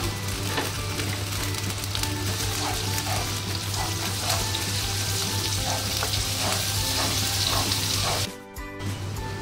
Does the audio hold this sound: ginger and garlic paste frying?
yes